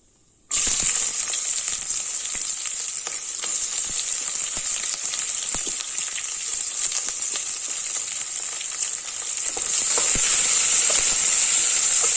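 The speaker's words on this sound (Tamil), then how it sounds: "இப்போ இதில் நம்ம வெங்காயம் சேர்த்துக்கலாம்." Onions frying in hot oil with cloves, cardamom and star anise give a steady loud sizzle that starts abruptly and holds constant, with faint stirring clicks and no voices.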